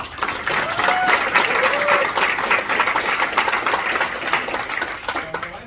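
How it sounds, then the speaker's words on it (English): Supporters gathered at Pine Lake Park for a mayoral and council candidate give a round of applause for his wife, steady outdoor clapping from a modest crowd lasting several seconds, with a few voices and whistles mixed in. "Round of applause for my wife."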